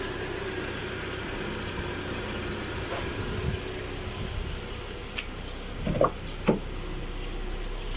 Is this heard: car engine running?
yes